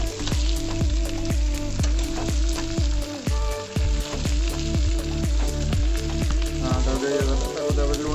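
Fish curry ingredients with onion and salt fry loudly in hot oil, a dense, continuous sizzle close up with rhythmic beats layered over it throughout.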